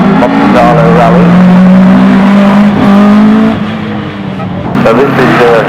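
A 1979 Valdegard rally car, runner-up on that year's Monte Carlo Rally, revs loudly nearby at a retro rally show, the engine rising and holding, then easing off before surging again, with a voice talking over it.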